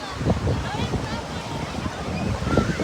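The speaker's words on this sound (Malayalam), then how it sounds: "നല്ല കാറ്റാണ്" Strong wind blows across wide, busy Kappil Beach, a constant roaring gust with low buffeting thumps against the microphone and the wash of surf beneath.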